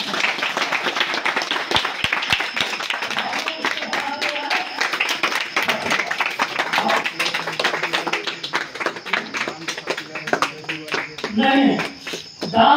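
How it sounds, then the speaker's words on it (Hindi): Audience claps during a Hindi spiritual discourse by a swami; brisk, continuous clapping fills the room for several seconds, with some voices mixed in. "ताली हो जाओ।"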